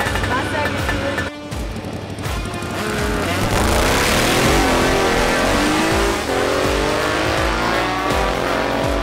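A 58 hp water-cooled racing Vespa scooter competes at the Glemseck 101 sprint event, its engine revving hard and rising in pitch as it accelerates away loudly, with other engine noise and a voice commentating over it.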